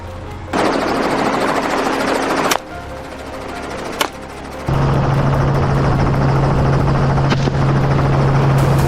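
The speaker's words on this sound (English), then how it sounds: "The pilot lowers the plane even further, only about 50 feet off the ground." A low-flying helicopter passes about 50 feet above a forest canopy, its heavy rotor thump and engine roar loud and continuous, with abrupt shifts in intensity and a strong low drone in the later part.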